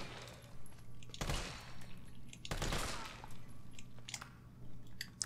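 Two sharp, loud gunshots about a second apart in Resident Evil 3, standing out against a quiet humming game background with faint clicks and rustles.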